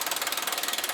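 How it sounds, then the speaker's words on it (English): A hand ratchet clicks rapidly and evenly while loosening a car subframe bolt, a close, bright run of about twenty clicks in one second. "Now we can unbolt the subframe."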